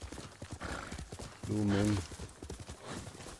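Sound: horse hooves clip-clop in Ghost of Tsushima video game

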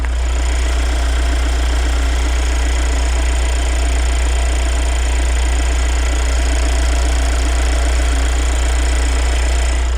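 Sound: diesel minivan engine idling

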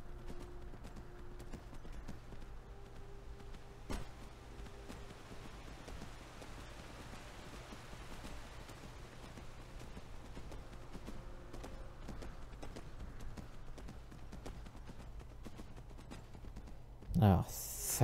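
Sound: horse hooves clip-clopping in video game Skyrim

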